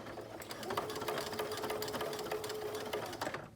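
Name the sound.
sewing machine back stitching a blanket cardigan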